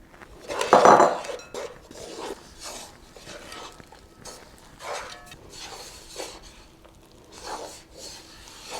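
A bread scraper working through a wet dough of about 4 cups of bread flour in a bowl, with close scraping, rubbing and occasional clinks against the bowl, heard alone.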